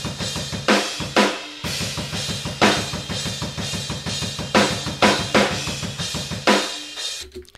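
Programmed drums heard through a distant room microphone channel, uncompressed: a steady beat of roomy kick and snare hits with ringing cymbal wash, repeating evenly for several bars before stopping abruptly.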